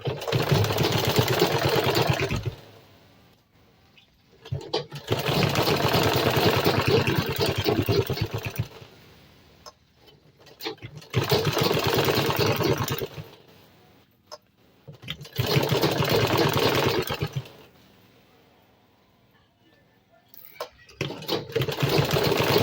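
A sewing machine stitches the side seam of a sinbono bag in four long, loud bursts of rapid whirring, separated by quiet pauses as the fabric is repositioned.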